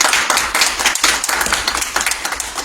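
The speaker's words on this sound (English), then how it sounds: "give yourselves a round of applause" A crowd of D.C. Fire Department cadets and senior leaders applauds, producing dense, loud, continuous clapping from many hands at close range.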